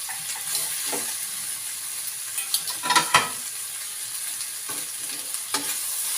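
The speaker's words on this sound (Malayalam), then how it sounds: "നമുക്ക് നല്ലപോലെ മിക്സ് ചെയ്യണം." A spoon stirs cooked pasta in a frying pan, soft scraping and clinking over a steady low sizzle, with a few sharper knocks near the middle.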